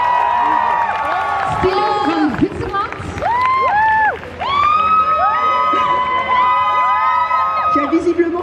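A crowd at a dance event cheers, whoops and shouts for a judge from Switzerland being welcomed, loud and close, with an announcer's voice over the noise and a brief dip before the cheering surges again.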